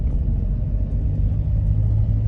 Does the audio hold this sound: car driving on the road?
yes